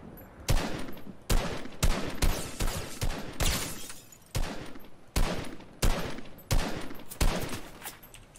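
Repeated bursts of gunfire from other players in Fortnite, about a dozen sharp shots and short volleys spread irregularly across the clip at mid distance, with no talking.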